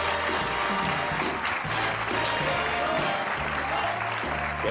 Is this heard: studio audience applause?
yes